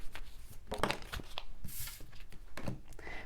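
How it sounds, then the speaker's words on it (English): Tarot cards being shuffled by hand, quiet close riffles and soft slaps in irregular bursts, with a crisper flutter in the middle, no voice over it. "Let's do some shuffling."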